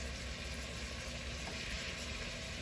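Short ribs sizzle in a hot pan just after being flipped, a steady, dense frying hiss filling the whole stretch with a low rumble beneath and no talking.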